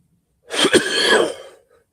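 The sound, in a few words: coughing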